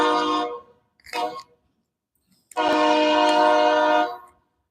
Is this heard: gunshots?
no